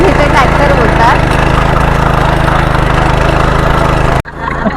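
A power tiller engine chugs in a rice field at paddy-planting time in Konkan, a loud, even drone with faint voices mixed in. It cuts off sharply near the end.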